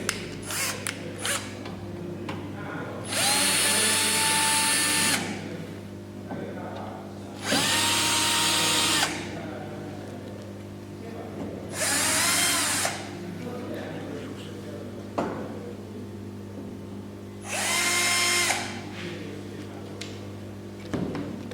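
A power drill removes the four screws holding the baffle plate on an SPF 5000ES unit, in four loud whirring bursts of a few seconds each, separated by pauses filled with a steady background hum.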